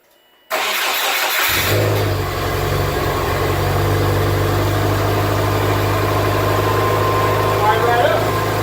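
A Subaru Impreza, freshly fitted with a battery, cranks briefly and fires up, then settles into a loud, steady idle with a low engine drone that runs without a break.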